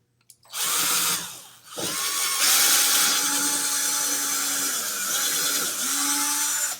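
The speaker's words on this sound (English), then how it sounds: "So I'm going to drill a couple more on the other side" A power drill whines loudly up close, spinning up, bogging as it bites into hard wood, then steadying in a sustained grinding drone with brief pitch dips.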